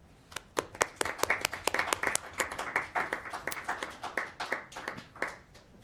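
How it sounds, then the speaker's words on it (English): Audience applause at a school district family resource centers council meeting: a room of people clapping steadily for several seconds, dense and fairly close, slowly thinning toward the end. "Please join me in giving them a big round of applause to Project 150"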